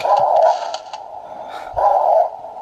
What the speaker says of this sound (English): That dog's still not dead?